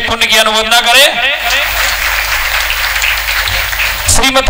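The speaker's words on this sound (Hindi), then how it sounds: "श्रीमती कल्पना जी, डोली जी, अनिल जी, आशा जी, जोरदार तालियों से हम एक बार इनके पुण्य की अनुमोदना करें।" Clapping at a Jain Chaturmas Kalash Sthapna ceremony in Anandpuri, Kanpur, heard as a loud sustained patter under an amplified voice speaking over it.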